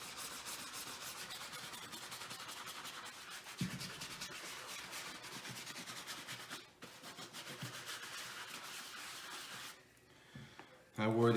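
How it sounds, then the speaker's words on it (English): Soft bristle brush scrubbing a dirty Puma PWR Ignite golf shoe during a deep clean, a steady close-up swishing rub that runs for about ten seconds, then briefly drops away before a louder knock at the end. "My left shoe this time with the soft bristle brush."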